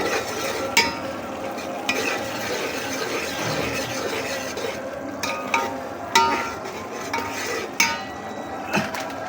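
Beef biryani with green chilies being stirred in a pot, a sizzling background with repeated metal scrapes and clinks of a spoon against the pot at an uneven pace, close up, with no one talking.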